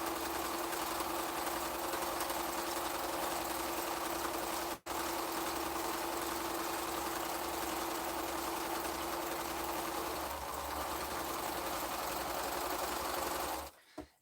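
Sewing machine stitching a quilt fabric seam, a steady close whirring hum with a fast mechanical rhythm running continuously, interrupted by one very brief stop and ending with a short pause and click.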